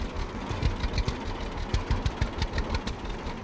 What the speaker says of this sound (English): Can't quite hear the baler because the tractor's too loud.